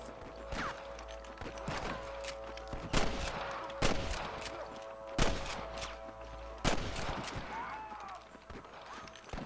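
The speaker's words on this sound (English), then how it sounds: "I can hear more gunshots." Several sharp gunshots crack at irregular intervals over a busy Red Dead Redemption game soundscape with hoofbeats and mechanical clatter, some close and loud, others more distant.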